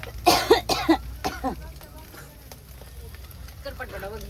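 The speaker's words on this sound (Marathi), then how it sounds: "मला लय खोकला लागलाय" A person gives a few harsh coughs and throat-clearing bursts close by, followed by quieter background noise.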